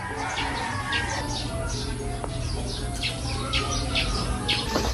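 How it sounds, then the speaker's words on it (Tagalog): Many small birds in a mango tree chirp and tweet repeatedly at moderate distance, their quick calls overlapping against a steady outdoor background hum. "Dito po sa puno po ng mangga ay maraming mga ibon."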